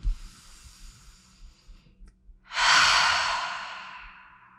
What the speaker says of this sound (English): Take a breath in and out.